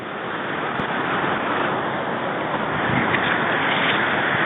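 Rushing water pours steadily from a waterfall into the elbow pool of a Poconos trout stream running high. The dense, even roar is loud and close and continues without a break.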